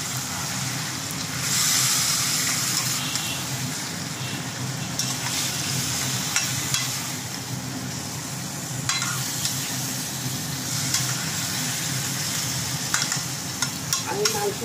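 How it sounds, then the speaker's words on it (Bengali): Marinated meat fries in a hot pan with a steady, close sizzle, broken by brief scraping stirs throughout, with no voices present. "ম্যারিনেট করা মাংসটা দিয়ে দিলাম।"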